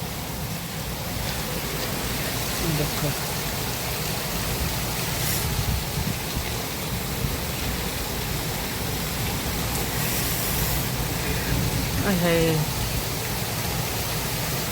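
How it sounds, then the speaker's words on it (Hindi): Heavy rain pours down in a steady, dense hiss that fills the whole stretch, with someone briefly speaking over the downpour. "पूरी तेज बारिश हो रही।"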